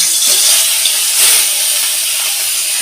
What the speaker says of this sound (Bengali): এখানে তোর মাছটা হালকা করে একটু ভেজে নিই